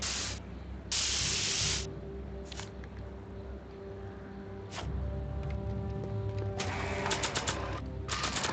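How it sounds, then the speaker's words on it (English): Bursts of spray-can hissing from painting in Back to the Future: The Game, several short and longer sprays separated by pauses, with rattling, clicking game sounds between them. "My spray can?"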